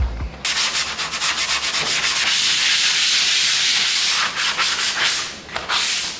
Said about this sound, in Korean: 이렇게 일단 사포 작업은 다 했고,